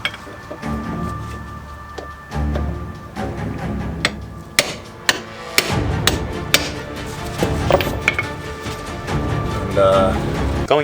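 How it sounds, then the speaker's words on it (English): Hammer blows struck against a leverage point on a BMW E30, a series of sharp metallic whacks at irregular intervals over steady background noise and clanking. "Make sure you got some nice swinging space for your hammer."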